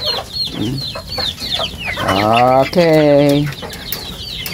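Chickens cluck and squawk close by in short bursts, with one long harmonic crowing-like call in the middle, while a person briefly says a word.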